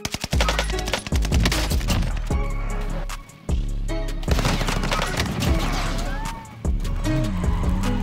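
Bren light machine gun fires in sustained bursts in the video game Warzone Pacific, loud and dense, mixed with game sound effects and a brief pause midway.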